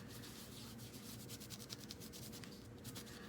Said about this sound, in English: So I'm just kind of scrubbing it in, getting it in all the little crevices.